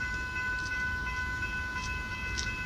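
A Siemens Nexas train rolls past a level crossing at moderate distance with a low steady rumble, under a constant high electric whine, with faint rhythmic clatter.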